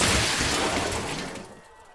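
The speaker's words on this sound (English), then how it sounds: "Without any warning, all these sculptures simply just exploded." Glass sculptures at a street market burst and shatter, a loud bright crash of breaking glass with scattering fragments that decays into quiet over about two seconds.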